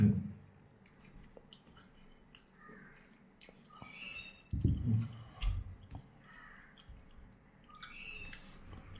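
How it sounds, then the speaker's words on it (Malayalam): Buttermilk is poured over a lunch plate of avial, a soft liquid splash and drip with a brief thicker burst midway, over quiet background clatter. "മോര് ഞാൻ ഒഴിച്ചു തരാം"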